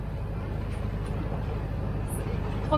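Sailboat's engine runs in a steady low drone on the open ocean during a transatlantic crossing, a moderate, even hum with faint wind and water, and voices talking nearby.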